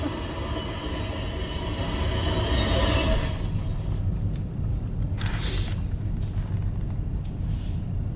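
A train passes near the Empire State Trail in Jordan, New York, a loud steady rumble and rush that swells, then eases as the cars roll by, with no talking.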